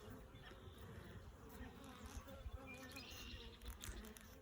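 Honeybees buzz continuously near a beehive during a hive inspection, a faint but steady drone with no voices.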